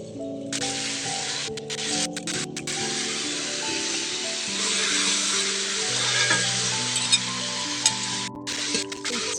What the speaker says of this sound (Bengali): চিকেন ভাজা তেলের মধ্যে দিব দারচিনি, এলাচ, লবঙ্গ, তেজপাতা, বাটা মশলা।